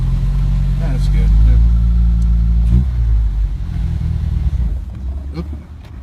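A 1961 Triumph TR3B sports car accelerates hard during a road test, its engine revving up loudly and close, then easing off, with occasional clicks and light talk over it.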